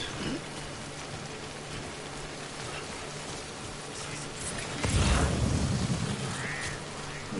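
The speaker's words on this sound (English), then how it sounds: "Don't stay out in the rain any longer than you have to." Steady rain pouring down in the Death Stranding video game, a dense continuous hiss of drops on surfaces with a heavier gust near the middle, no voices.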